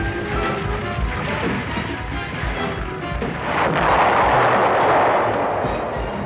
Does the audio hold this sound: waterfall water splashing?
no